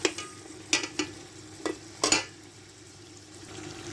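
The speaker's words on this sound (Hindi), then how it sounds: "अब इसे अच्छी तरह मिक्स करूँगी" Ground spices being stirred into cooked meat in a pot, with several distinct scraping stirs at irregular intervals over a soft, steady sizzle, close and fairly quiet with no talking.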